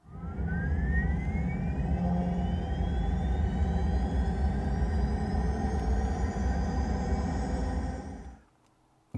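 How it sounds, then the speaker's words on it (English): A Mercedes EQE's in-car assistant plays an ejector seat sound effect: a steady roaring rumble with a rising whine, like a jet engine spooling up, sustained for several seconds before cutting off abruptly. "was that supposed to be a jet or an ejector seat?"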